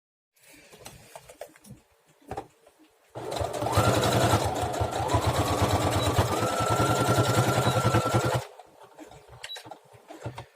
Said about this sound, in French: il faudra juste passer un coup de couture proche du bord